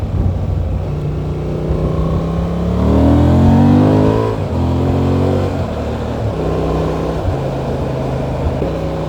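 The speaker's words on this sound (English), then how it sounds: "Dropping the gears to have more engine braking, relying on engine braking, leading into the corner" A Honda Transalp motorcycle downshifts into a corner, the engine note climbing and dropping in stepped blips as engine braking holds speed, loud and close under steady wind with no talk.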